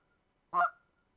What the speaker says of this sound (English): A cluck is a single goose, double cluck is two geese.